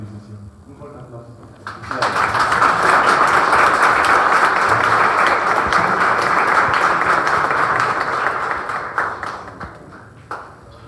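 An audience breaks into strong applause at a recognition ceremony during a national peace-dialogue gathering, honouring a teacher. After a brief voice, dense sustained clapping fills about seven seconds, then thins into scattered claps.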